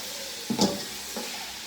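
Ginger, green chilli, garlic and shallot paste drops into a hot pan for beef biryani, giving a short burst of sizzling and stirring, with a second, softer sizzle a moment later over a steady low hiss.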